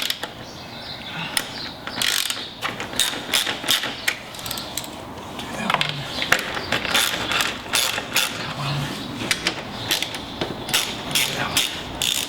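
A ratchet with an adapter undoing bolts on an F56 Mini Cooper S during battery removal, giving repeated close bursts of sharp pawl clicks in quick rhythmic runs with short breaks.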